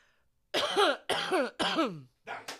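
Three loud, close fake coughs in a row on a morning radio show, each a harsh burst with a rough throaty tail, followed by a shorter fourth cough that sounds deliberate and forced.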